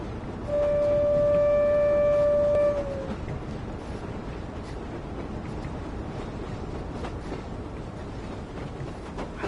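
A train horn in the Train Sim World game on the West Somerset Railway sounds one steady, loud blast of about two seconds. Rolling wheel and track rumble continues underneath and afterward.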